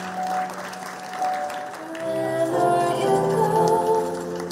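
Wedding guests clap to welcome the bride's father as he takes his place, a moderate burst of applause running under prominent sustained music for several seconds.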